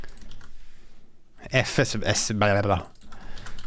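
Code being typed on a computer keyboard at a desk during 2D game library programming, with quick clicking keystrokes under and between a man's speech.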